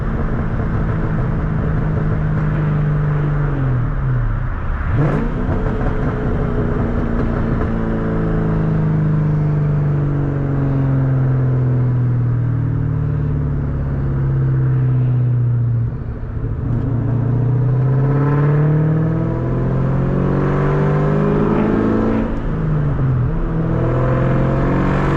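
A 500hp car nicknamed the Terminator drives at dusk, its engine droning loud and continuous, rising and falling in pitch through repeated shifts and throttle changes over the whole stretch.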